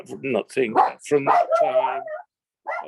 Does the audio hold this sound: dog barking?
yes